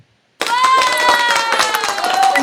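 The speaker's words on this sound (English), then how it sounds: "Let's do it again. Round of applause." A round of applause breaks out after a brief silence at a live card-making show, dense clapping holding steady and fairly loud with some ringing tones mixed in.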